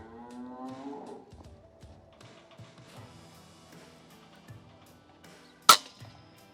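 An FX Panthera airgun fires an ACE slug at pests on an outdoor hunt: a single sharp, loud crack near the end, after a cow lows nearby at the start and a stretch of quiet.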